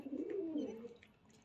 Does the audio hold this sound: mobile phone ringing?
no